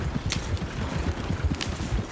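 Horses stampeding in Red Dead Redemption 2: a steady, dense clatter of many hooves thundering low and continuous, with occasional brighter bursts over the rumble.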